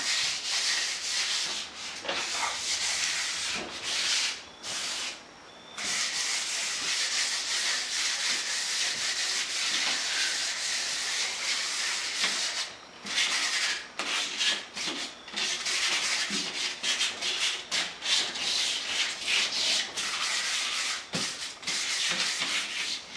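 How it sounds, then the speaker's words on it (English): A painted fiberglass door is lightly hand-sanded, with loud, close, continuous rubbing strokes and a few brief pauses. "So you just want to just use this to do a light sand so that it's smooth"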